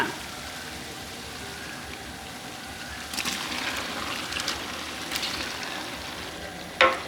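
Beef goes into a large pan of frying masala, curry powder and turmeric for a beef curry for 70 people. A steady sizzle swells louder with several stirring bursts, ending in a sharp clatter.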